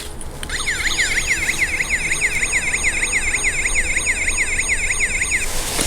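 A Majorette Hero Patrol toy police vehicle, die-cast with a plastic base, sounding its electronic siren held close, a loud, steady, rapidly warbling wail that starts abruptly and repeats evenly throughout.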